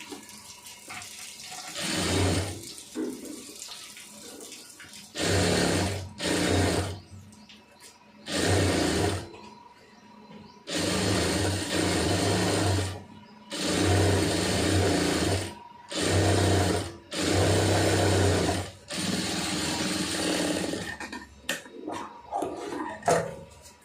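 A sewing machine stitches a cigarette pant in repeated bursts of motor whirring, each run lasting a few seconds and separated by short pauses, close and fairly loud with no voice.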